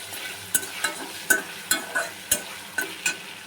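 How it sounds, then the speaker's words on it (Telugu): Ginger garlic paste fries in a pan for a biryani gravy, a steady close sizzle broken by regular scraping stirs of a spoon, about eight strokes in an even rhythm. "ఇది వచ్చేసి పచ్చివాసన పోయేంత వరకు ఫ్రై చేసుకోవాలి"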